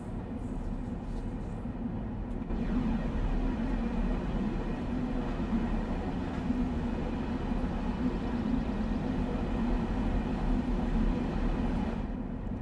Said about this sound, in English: See, an electric train makes some noise.